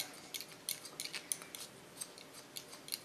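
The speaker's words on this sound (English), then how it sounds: "I love the sound of this scissors" Hair-cutting scissors snip in quick, irregular bursts during a short feminine haircut using a scissors-over-comb technique, with crisp, close, fairly quiet metallic clicks and no talking.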